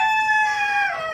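A Sonali rooster on a poultry farm crows close and loud in one long, sustained call that holds steady before tapering at the end, with no other sounds around it.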